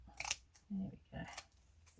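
Scissors snip a little off a hand-stitched fabric piece, two or three short, quiet crisp cuts separated by brief pauses, close up.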